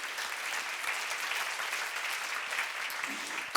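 A church seminar congregation claps together in a steady, dense burst of applause that holds at an even level for a few seconds before stopping abruptly.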